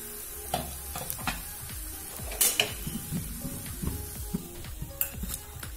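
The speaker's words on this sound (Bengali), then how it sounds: "মাছ ভাজা তেলের ভিতরে এখানে দুটো পেঁয়াজ কুচি করা আছে, সেটা ভাজি করে নেব।" Chopped onions and cumin frying in leftover fish oil in a pan give a soft sizzle, broken by repeated scraping and clinking of a metal spatula stirring against the pan.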